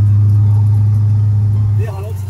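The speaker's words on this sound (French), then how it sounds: "le moment improbable, la GT40 sur route ouverte" A Ford GT40 sports car drives on an open public road, its engine giving a loud, steady low rumble that drops in level near the end as the car eases off.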